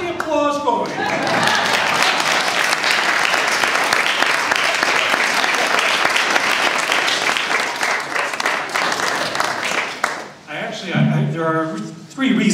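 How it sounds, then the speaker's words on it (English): Loud, continuous applause from a crowd at a memorial service fills most of the span, then fades out as voices take over near the end. "Get the applause going."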